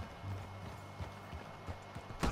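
Horse hooves clip-clop at a steady walking pace in Red Dead Redemption 2, faint, rhythmic thuds over quiet ambient noise.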